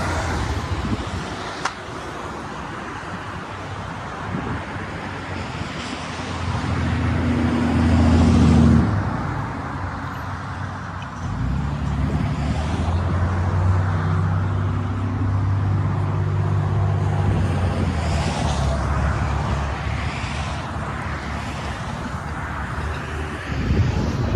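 A car moving on a road makes a steady engine and tyre rumble with road noise throughout, swelling louder for a few seconds as it draws near.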